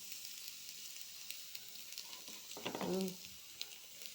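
Quiet steady sizzling of hot dogs frying in a hot pan, with a brief voice murmuring partway through over the crackle.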